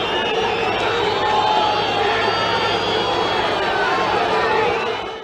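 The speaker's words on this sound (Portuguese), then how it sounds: "Olha como é que a torcida do São Paulo ficou feliz ontem" São Paulo football fans fill a stadium with a dense, steady roar of cheering and chanting, loud and sustained before fading at the end.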